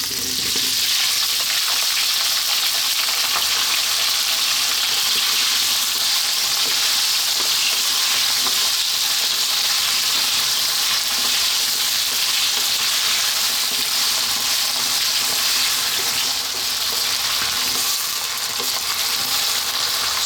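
Potatoes fry in hot oil for a potato curry, giving a loud, constant sizzling hiss that stays dense and even from start to finish, with faint stirring underneath.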